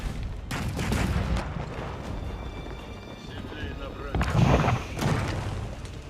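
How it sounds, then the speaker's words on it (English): Cannons bombarding a keep in the strategy game Age of Empires 4 fire as a run of booming impacts over continuous battle noise, with heavier blasts near the middle and end, under a commentator's voice. "Cannons bombarding the keep."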